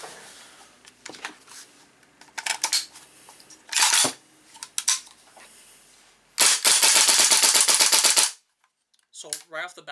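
Airsoft GHK AK fitted with a Noveske KFH flash hider fires a long sustained burst of rapid, loud reports, preceded by a few single shots and handling clatter, with faint talk nearby.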